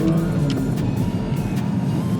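A 2022 Porsche 992 GT3 engine pulls hard under acceleration, a loud, sustained mechanical drone with deep rumble and rising engine tone, heard from inside the car without talk.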